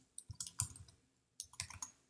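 A few quick, crisp computer mouse clicks made while working in Storyboard Pro, two small clusters of light taps close up with a short silence between them.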